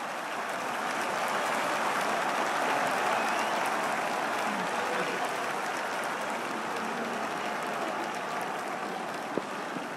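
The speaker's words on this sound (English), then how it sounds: "The crowd applaud." Crowd applause in the Don Bradman Cricket 14 video game, a dense steady roar of clapping that swells slightly and then holds for the whole stretch, with faint commentary underneath.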